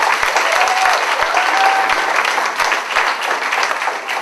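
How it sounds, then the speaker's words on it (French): A church congregation breaks into loud, close applause, dense clapping that fills the room and holds steady for several seconds. "Amen, applaudissez"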